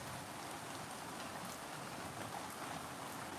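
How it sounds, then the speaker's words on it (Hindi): Heavy rain pours down in a steady, dense hiss that is unbroken and even throughout, with no voices over it. "ये देखो इतनी बारिश हो रही।"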